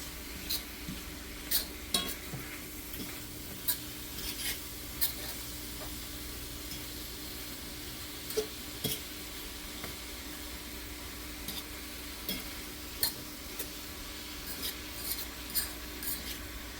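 Pork chops and apples with cinnamon sizzle in a Lodge cast-iron skillet as a utensil stirs and scrapes through them, giving steady frying hiss with small irregular scraping clicks, close and with no voices.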